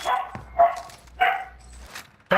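A husky barks in the Warzone video game, three or four loud, clipped woofs spaced about half a second apart, with no talk over them.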